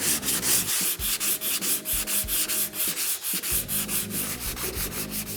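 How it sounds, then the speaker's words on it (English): Steady rhythmic strokes of medium-grit sandpaper on a block rasp back and forth across body filler on a car body repair, close and continuous with no talking. "using the medium grit sandpaper and the same sanding block, apply a cross-blocking pattern"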